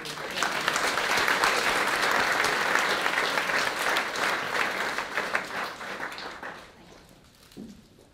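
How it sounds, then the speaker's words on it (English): An audience at a scholarship recipients' breakfast gives sustained, full applause for elders, loud and dense for several seconds before tapering off into a few scattered claps. "let's just give a moment of applause for the elders and those who support all the schools"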